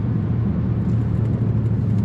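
A Ford Taurus SHO accelerates hard with traction control on, its engine a steady low droning rumble heard from inside the car, with no talking.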